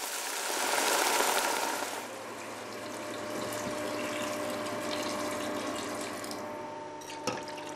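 Broth is poured into a pan after a deglaze with dark beer, a rushing liquid pour loudest at the start, then a lower steady sizzling bubble with a faint knock near the end.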